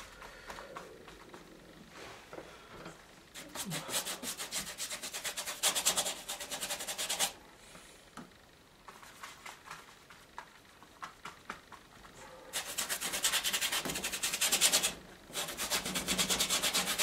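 A paintbrush with acrylic paint scrubs and drags across rough primed canvas in bursts of scratchy strokes, louder and softer by turns, with no talking.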